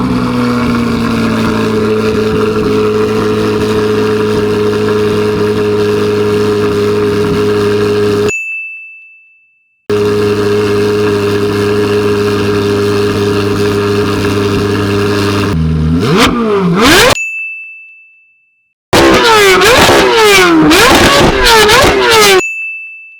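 A modified C8 Corvette Z06 engine roars loud and close, holding a sustained high rev, cutting off abruptly, then returning with a long rev before a series of sharp, rising and falling blips at the end.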